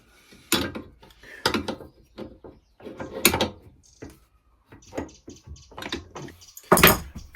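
Close metallic clicks, clunks and rattles come from loosening and adjusting the tilting bed of a Zipper Z1-STB 16T pillar drill, arriving in short irregular bursts with quiet gaps between them.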